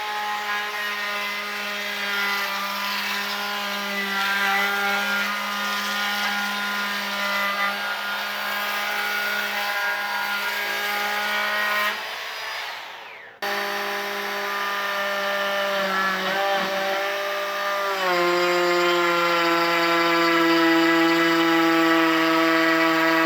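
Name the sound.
Bosch 12V cordless brushless trim router cutting wood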